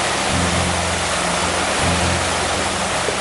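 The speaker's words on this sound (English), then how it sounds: "There's the water coming in." Steady, loud rushing water pours continuously into a canal lock at Neptune's Staircase, a dense roaring wash with a low rumble underneath and no voices.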